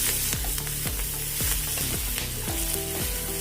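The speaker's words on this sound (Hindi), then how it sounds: "अभी इसमें प्याज डालेंगे, अच्छे से मिक्स कर लेंगे और थोड़ी देर इसको भूनेंगे" Onions stirred and sautéed in a pan for a rich paneer lababdar gravy: steady frying sizzle with repeated rhythmic scrapes of a spoon across the pan, close and clear.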